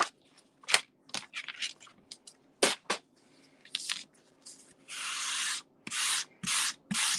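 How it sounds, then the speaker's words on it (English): A coarse painter's sanding block rasps along an edge on a faux patina piece in short scratchy strokes, with the later strokes longer and steadier, all close and with no voices. "a painter's sanding block, and just do that on there"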